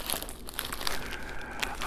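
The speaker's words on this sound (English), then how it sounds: "I thought this was just like some, packing paper." Close, crisp crinkling of packing paper from a doll package, with irregular bursts of rustle and small sharp crackles and no talking.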